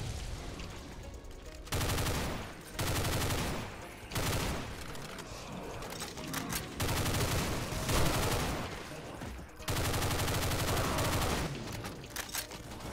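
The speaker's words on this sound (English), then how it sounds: "They got plasma weapons." Alien plasma weapons in Doom fire in repeated heavy bursts, loud crackling volleys separated by short pauses, with no talk over them.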